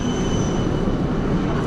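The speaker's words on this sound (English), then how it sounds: "I'm right in the middle of the road, and there's buses and trams" A tram passes along a busy street in Bern, Switzerland, giving a close, steady low rumble of wheels on rails with faint high squealing tones above it.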